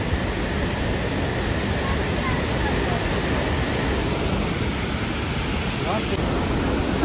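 Rhine Falls in Switzerland, Europe's largest waterfall, gives off a steady, loud, broadband roar of rushing, crashing water that never lets up.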